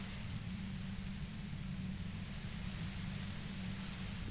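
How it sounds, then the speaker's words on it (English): A compressor in the video game Disco Elysium gives off a dense, steady white-noise hiss with a heavy low rumble, constant and unbroken throughout. "The violet white noise becomes even more overwhelming closer to the compressor."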